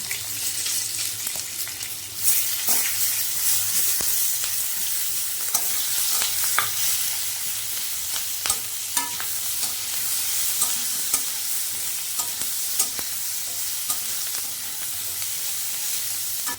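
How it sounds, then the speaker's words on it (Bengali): Chopped onion and green chilli fry in hot oil in a pan, with a dense, continuous sizzle close by and regular light scrapes and taps of a spoon stirring throughout, no talking. "পেঁয়াজ আর লঙ্কা দিয়ে একটু ভেজে নিয়েছি"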